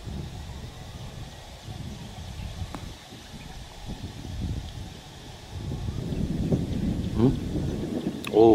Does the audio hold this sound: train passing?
no